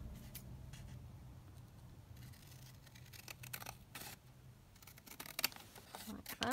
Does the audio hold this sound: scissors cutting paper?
yes